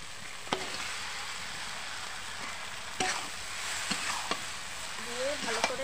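Chicken pieces go into spices already fried in a pan for a Bengali chicken curry, giving a steady sizzle with a few sharp clinks and scrapes of a spoon as the meat is stirred.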